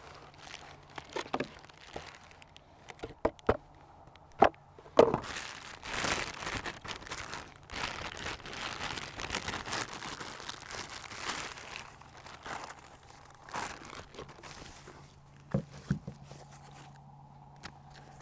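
Packaging of a BCA rifle scope crinkling and rustling as it is unboxed, close bursts of crackly plastic and cardboard handling with a few sharp knocks, irregular and intermittent.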